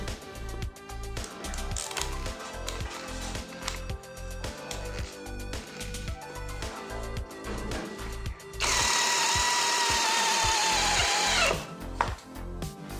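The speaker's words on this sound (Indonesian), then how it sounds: "Kita coba lanjutkan pekerjaannya menggunakan bor dari DCA ya," A DCA ADJZ03-13 cordless drill runs in a steady pulsing rhythm, then rises into a loud, continuous high whine for about three seconds before cutting back to the pulsing near the end.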